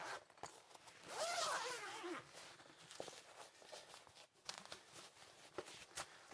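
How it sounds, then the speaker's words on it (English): A zipper is pulled open on a ukulele gig bag in one quiet, close rasp. Soft handling rustles and taps come before and after it. "so let's unzip this and see what we got."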